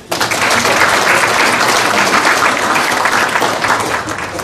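Loud, sustained applause from the audience at a chamber of commerce breakfast meeting in Gumi, continuous dense clapping filling the room for several seconds with no talk over it.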